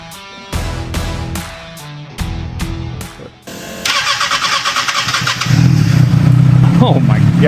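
A Kawasaki ZX6R engine fitted in a cross kart cranks in several short bursts, then catches and settles into a loud, steady idle with a rough mid-range rumble.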